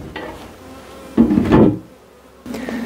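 Bees buzzing close at an open beehive during a honey harvest, a low droning hum that swells in loud bursts, with faint knocks of hive handling between them.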